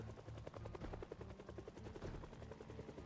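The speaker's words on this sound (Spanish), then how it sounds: "el helicóptero Vanilla solo trae zombies" In a zombie video game, a helicopter's rotor thumps in a steady, rapid beat at low volume, unbroken for the whole stretch with no talking.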